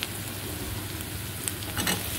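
Capsicum and onion fry in a hot pan with chilli for an egg chilli dish, giving a steady close sizzle with faint stirring scrapes and no voices.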